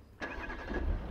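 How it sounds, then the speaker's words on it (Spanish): A car engine in the video game Beyond: Two Souls cranks and catches, turning over briefly with a low rumble, faint and short. "Ahora sube al coche y arranca."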